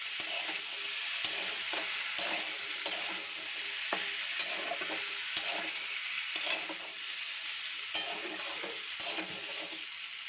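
Chicken pieces fry in oil with ginger and garlic, a bright continuous sizzle close up, punctuated by regular scraping stirs and light clicks of a utensil against the pan.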